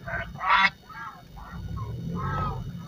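Geese honk in short, nasal bursts at Dal Lake, Srinagar, Kashmir, a couple of loud calls up front followed by softer honking over low rumbling outdoor noise.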